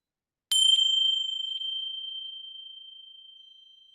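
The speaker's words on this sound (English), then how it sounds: "I'm going to start and end with a chime of the bells." A single meditation bell is struck once, ringing with a clear bright tone that decays slowly over several seconds in silence.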